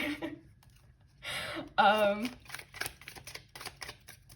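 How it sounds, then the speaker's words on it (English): A deck of tarot cards riffles and shuffles up close in a couple of quick bursts, then softer card taps and handling follow in a quiet room. "I try my best to shuffle well, but sometimes it's just not meant to be."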